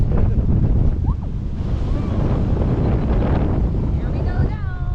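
Strong wind roaring and buffeting the microphone high on the Orlando Starflyer, a 450 ft tall swing ride, at night in the rain, a steady loud rush throughout.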